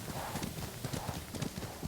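Horse hooves clip-clop in a steady, close rhythm of repeated thuds in a video game, with faint background noise and no talking.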